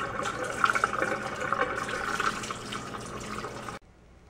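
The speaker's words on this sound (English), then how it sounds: "Just wanted to show you real quick how I use the hose." A hose runs water over Stewie the cat during a bath, a steady splashing gush that stays close and fairly loud, then cuts off abruptly near the end.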